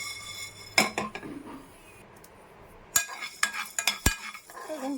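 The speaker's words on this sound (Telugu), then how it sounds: "ఇప్పుడు చూడండి ఒక రెండు స్పూన్లు ధనియాలు వేసాను ఇవి కొద్దిగా మనం పెంచేసుకుందాం" Two spoons of coriander seeds roast in a pan while being stirred, giving irregular clinks and scrapes of a metal spoon against the pan, with a faint dry rattle between the sharper knocks.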